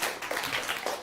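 Audience clapping during a talk show on relationships and cheating, a dense, steady patter of many hands at moderate loudness running through the whole second.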